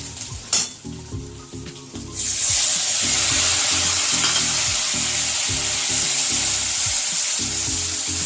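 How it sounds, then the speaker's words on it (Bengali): Onion paste hits hot oil with a bay leaf already in the pan, erupting into a loud, steady sizzle that continues unbroken, with a few clinks of a utensil at the start and rhythmic low stirring scrapes underneath. "পেঁয়াজটাকে ভালো করে ভেজে নিতে হবে, নাহলে তরকারি স্বাদ আসবে না।"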